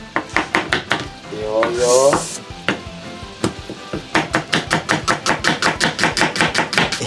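Green onions chopped with a knife on a cutting board: a steady run of sharp, close knocks, broken midway by a sizzle and a brief stir, then resuming in quick rhythmic strokes while a voice briefly speaks.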